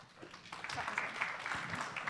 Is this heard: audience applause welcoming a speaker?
yes